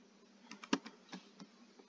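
A few soft, scattered keystrokes on a computer keyboard while a password is entered on a login page, quiet and close, with irregular taps and one sharper click in a hushed room.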